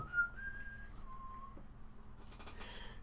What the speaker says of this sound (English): Whistling just shut my brain off.